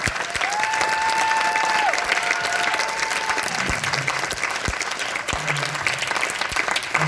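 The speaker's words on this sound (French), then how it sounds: "S'il vous plaît, des applaudissements pour l'équipe de Mani." An audience at a film screening applauds the crew in a dense, steady wash of clapping that holds for several seconds, with a brief tonal whistle early on and a few louder claps standing out as it thins.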